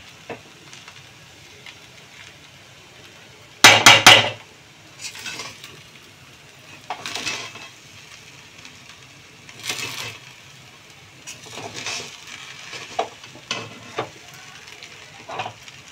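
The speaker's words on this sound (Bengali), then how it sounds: "এটাকে আমরা হালকা হাতে একদম নেড়ে নেব" Kanika, a sweet rice bhog cooked Puri style, stirred gently in a pan: soft scraping spoon strokes over faint sizzle, with one sharp burst of metal clatter early on, no speech.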